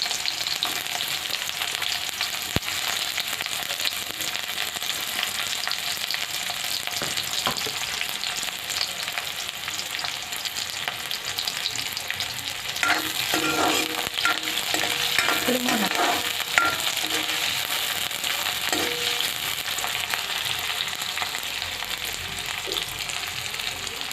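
Chopped onions for a mixed vegetable fry hiss steadily in hot oil while a spoon stirs and scrapes the pan. The scraping strokes grow more frequent midway through the long, continuous sizzle, with no speech.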